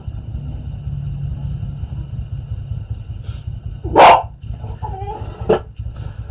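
A dog at home gives a single loud bark, then a couple of softer follow-up yelps, over a steady low rumble of room noise.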